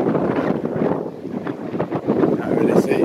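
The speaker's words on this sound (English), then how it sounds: "It's too windy" Strong wind, 25 knots gusting to 30, buffets a boat lying at anchor, roaring steadily against the microphone with surging gusts across the whole stretch.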